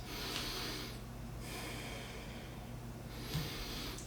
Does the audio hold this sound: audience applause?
no